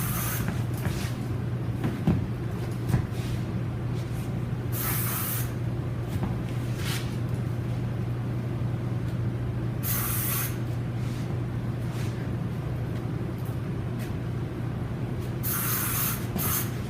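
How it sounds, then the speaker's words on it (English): Several short bursts of hair spray hiss, each a second or so long, over a steady low hum in a quiet room. "spray for some memory."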